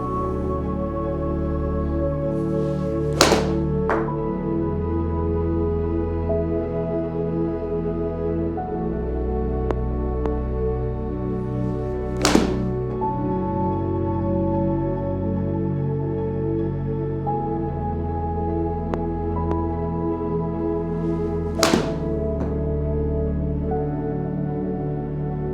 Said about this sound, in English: Now let's hit the Kirkland, then we can look at the data and see if there's any real differences with wedge shots